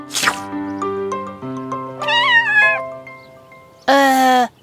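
Cartoon kitten meows several times, high and tonal with rising and falling pitch, set against sustained musical tones, with a loud final meow near the end.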